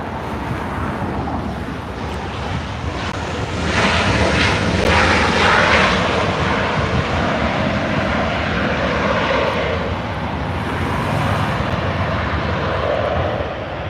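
A Delta 737-800 airliner arriving at LAX from Austin roars as a broad, steady jet rumble with wind noise, swelling louder through the middle and holding on as it passes.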